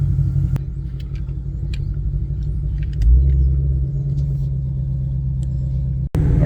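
Ford Shelby GT500 engine rumbling heavily up close, a deep steady low growl that swells slightly partway through, then dips briefly near the end with a sharp click, with no talking.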